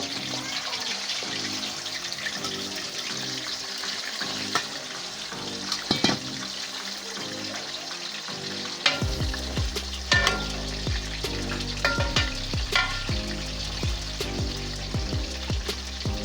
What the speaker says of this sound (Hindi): अब हम चिकन को फ्राई करने के लिए डाल रहे हैं।